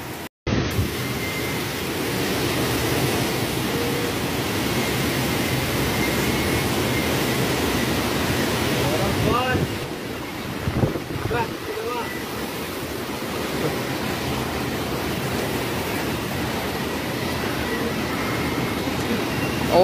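Strong typhoon wind roars outdoors as a continuous broadband rush, loud and unbroken for about twenty seconds, with a brief gusty disturbance midway.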